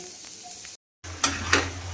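Masala sizzles as it is sautéed in a pan for fish curry, a close, steady frying hiss with scraping stir strokes, broken by a brief silent gap.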